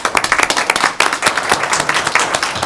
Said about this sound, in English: we'll give him a quick round of applause if you don't mind